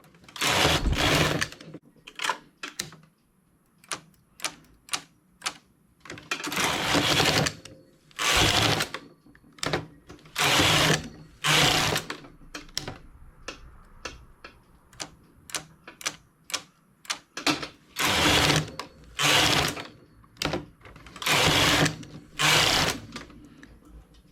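Carriage of a domestic knitting machine working a knitted sample, sweeping across the needle bed in loud rattling passes of a second or two, separated by quieter clicks and pauses, repeated many times.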